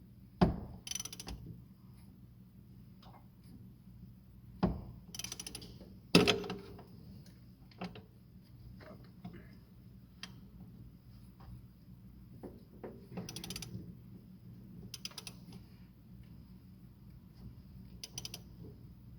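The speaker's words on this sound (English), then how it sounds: "we just went right on the alternator nut with the ratchet, and that's how we barred it over" Ratchet turning the alternator nut to bar over a Cummins diesel engine in a '94–'02 Dodge Ram during transmission removal, heard as scattered clicks and metallic knocks over a low steady hum, fairly faint and close.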